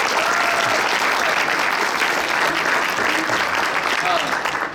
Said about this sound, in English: give him a round of applause for everything that he's done